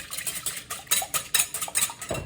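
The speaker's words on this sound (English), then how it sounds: "Get one egg in your bowl. Just give that a quick whisk." Quick whisking of a single egg in a bowl for a simple batter, a fast run of light clinking, scraping strokes repeating roughly every quarter second, close and fairly loud with no talking.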